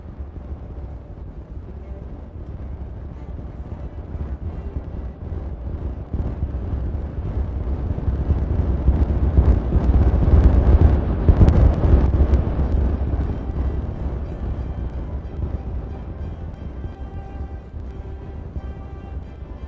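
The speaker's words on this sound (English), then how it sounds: "Stereo explosions are awesome." Explosions clearing land in the video game Timberborn: a deep, rumbling roar that swells steadily to a heavy peak midway and then slowly fades, with no other sounds over it.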